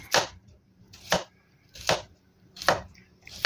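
A knife slices through a peeled cucumber on a cutting board in five evenly spaced, crisp chops, close and clear against a quiet background.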